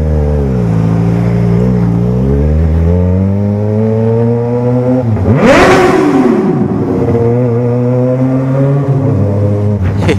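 A Yamaha XJ6 and a Honda Hornet rev hard during a street race through an underpass, engine pitch climbing and dropping as one cuts the rev limiter, with a sharp whooshing pass-by midway, loud and close.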